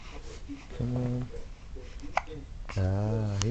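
An infant's hiccups come as a few short, soft catches, with an adult voice cooing and speaking around them fairly close by.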